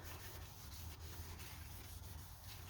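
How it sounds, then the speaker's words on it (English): A brake rotor is wiped clean during a brake job, producing a faint, continuous soft rubbing close by. "we're just gonna go do one last clean of the rotor"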